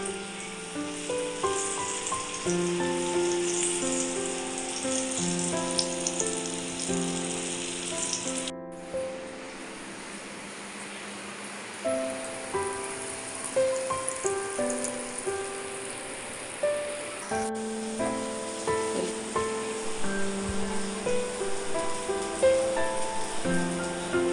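Brinjal slices fry in hot oil in a pan, giving a steady crackling sizzle with scattered pops and bubbling that runs continuously throughout, close and fairly loud with no voices.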